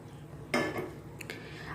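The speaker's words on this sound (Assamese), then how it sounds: "আৰু ইয়াতে মই এতিয়া মাছখিনি, ভাজি লোৱা মাছখিনি ইয়াতে দি দিছোঁ।" Fried fish pieces go into a cooking pot for a fish curry with pineapple, a single brief clatter of metal and a soft splash close by, followed by faint clinks.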